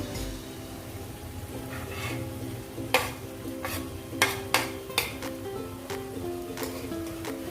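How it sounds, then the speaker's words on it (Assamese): Ginger garlic paste fries in a pan of browned onions for a mutton curry, giving a steady sizzle with sharper scraping stir strokes clustered in the middle and end. "আদা নহৰু কেঁচা গোন্ধটো যোৱালৈকে মই এনেদৰে অলপ সময় ভাজি ল'ম"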